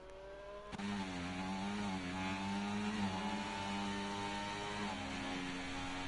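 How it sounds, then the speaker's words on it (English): An F1 race car in a racing video game pulls out of the pit lane at the Las Vegas circuit, its engine a continuous buzzing drone with shifting pitch steps as it accelerates, heard alone at moderate volume. "Roy the boy will now exit the pit lane."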